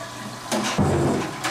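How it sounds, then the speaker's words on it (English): Hot tap water runs onto soaked split peas in a kitchen sink, a brief close-up gush of splashing flow lasting about a second, with no talking. "And rinse with some hot water."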